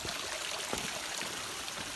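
Flowing water at Jim Yai waterfall in Bueng Sam Phan, Phetchabun, where stacked rock ledges step upward, gives a steady, even broadband rush with small splashy bursts, continuous and moderately close, with no voices.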